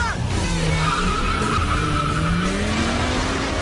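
Street racing car skidding and burning rubber, a loud sustained screech of tires with rising engine whine, close and continuous.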